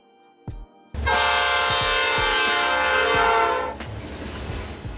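A freight train sounds a loud, sustained horn blast for about two and a half seconds after a couple of brief knocks, with a low rolling rumble continuing beneath and after it.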